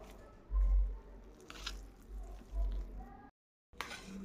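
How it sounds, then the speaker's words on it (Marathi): Mashed potatoes being stirred together with a sautéed spice paste for vada pav filling, giving soft squishy, wet mixing sounds in a few slow pulses, with a brief gap near the end. "मॅश करून झाल्यानंतर बटाटे व्यवस्थित त्यामध्ये आपल्याला आपण जे परतून घेतलं होतं वाटण ते आता मिक्स करून घ्यायचं आहे व्यवस्थित"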